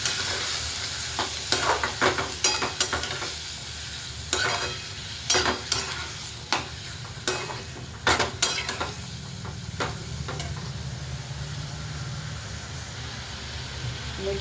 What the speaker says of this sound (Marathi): आता हा घेवडा टाकूया तेलामध्ये.